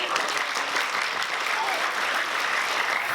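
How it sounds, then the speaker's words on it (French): Dense, steady audience applause at a theatre and performing-arts festival, filling the whole stretch at an even level with no speech over it. "Ouais, on peut les applaudir"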